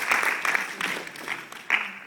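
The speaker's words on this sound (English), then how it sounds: "So clap hands for yourselves." An audience at an African Leadership Academy Pi Day celebration claps in a loose, scattered burst that fades over two seconds, moderately near, with a voice briefly audible among the claps.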